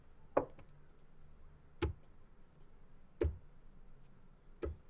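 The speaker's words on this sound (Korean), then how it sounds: "피아노 덮개를 손가락으로 두드린다" Four sharp taps of fingers on a wooden piano lid, spaced out with pauses between them, close and distinct against a quiet background.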